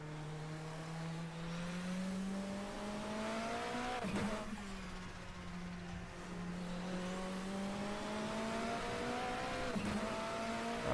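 A Toyota race car engine in a racing video game at Spa, holding a steady loud drone that builds gradually, with two brief gear-shift dips and a fresh pull each time.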